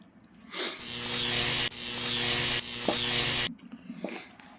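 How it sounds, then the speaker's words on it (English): A welder joining a metal piece in the point-and-click game The Hand of Glory, three loud sustained buzzing bursts run almost back to back, each cut by a short break, set between quieter moments. "let's weld this piece together then"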